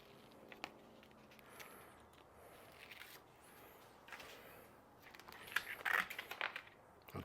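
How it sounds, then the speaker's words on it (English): A Jeep's raised 'J' emblem letter is peeled off by hand without tools, giving quiet, scattered crackles and small adhesive snaps that grow denser and louder toward the end, with no talking. "I'm just gonna try to peel this off."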